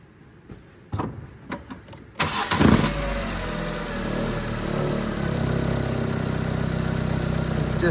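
A car engine cranks briefly with a few starter bursts, then catches and settles into a steady, close idle during a battery cranking test with a handheld tester.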